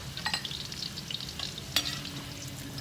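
Indian gooseberries (amla) fry in a pan over high flame for pickle, crackling and sizzling steadily with small popping bursts, close and fairly soft, no voices.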